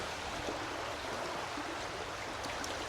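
A mountain stream runs steadily nearby while water is gathered into a Grail filter bottle, a constant broad rushing wash with no clear individual splashes.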